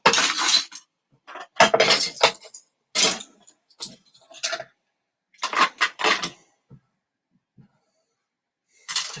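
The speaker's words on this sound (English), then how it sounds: "That was the sound of these pieces all falling off." Small plastic toy building pieces fall off a model in several scattered bursts of clattering and clicking, with short rattles spread across the scene and quiet gaps between them.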